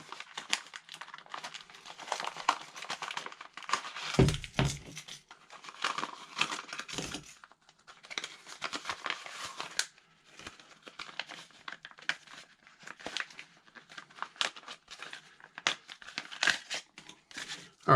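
Thick plastic crinkles and rustles continuously nearby, with irregular crackling bursts and a couple of dull thumps as it is handled.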